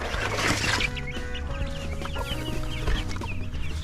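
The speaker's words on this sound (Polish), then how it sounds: "poszła Teresa, mam tutaj kurczaki i nie zawaham się ich użyć." Several chickens and young chicks cluck steadily and close by in a poultry run, overlapping in a busy farmyard chatter with a few sharper squawks.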